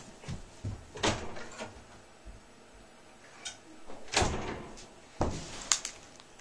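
Knocking on a house door during a knock-door-run prank, several separate sharp knocks and bangs spread irregularly across the clip, moderately close, with quiet gaps between them and no talk.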